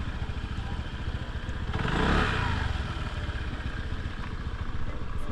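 Motorcycle at a campsite in Malico, its engine running close by with a steady, rattling idle that swells briefly into a louder rev before settling back.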